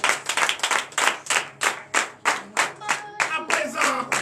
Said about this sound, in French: Veuillez vous lever et donner de vive acclamation au Seigneur.